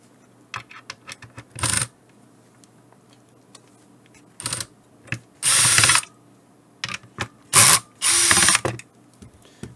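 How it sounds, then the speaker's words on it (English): A ratcheting driver unscrews two screws on the bottom of an HME DX300 wireless intercom base, giving close bursts of rapid clicking, short and longer runs, separated by quiet gaps and small handling taps. "Now, we have to open these two screws at the bottom."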